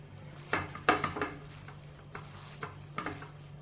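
Spoon stirring coriander powder, garam masala and salt together in a bowl for meal maker cutlet mix, giving a few soft scraping and clinking strokes over a low steady hum, no voices.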